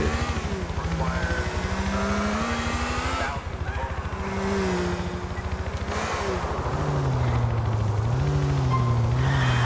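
Engine of the Ferrari-styled Turismo sports car in Grand Theft Auto IV on PC: a loud, continuous engine drone rising and falling in pitch as it revs and shifts gears, with brief dips between gears.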